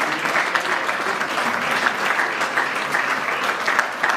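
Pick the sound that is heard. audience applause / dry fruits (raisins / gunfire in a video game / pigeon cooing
audience applause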